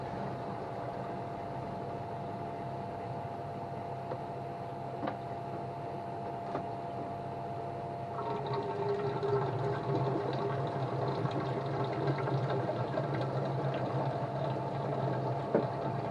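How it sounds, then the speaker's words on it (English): Water drains from koi pond filter chambers through opened valves, a continuous rushing wash that swells noticeably louder partway through, with no voices over it. "what I do now is I open up the valves down on this side, which will clear out the two chambers"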